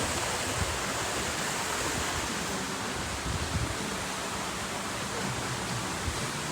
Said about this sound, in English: Another one of those nice fountains over there.